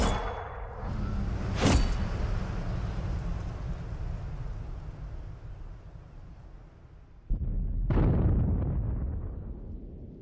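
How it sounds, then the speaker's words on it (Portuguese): A Soviet Object 261 Tier X self-propelled artillery gun fires in a tank video game, with a sharp shot near the start, a long rumbling tail, then a second heavy boom and roaring decay at the end. "Pode disparar! Belo tiro!"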